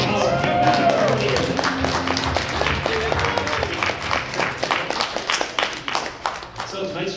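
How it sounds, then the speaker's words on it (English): An audience at a furry convention's seaside Jeopardy game show claps for the contestants, a dense burst of applause that thins into scattered individual claps, with a voice talking over it. "Let's give another round of applause for all of our contestants, please."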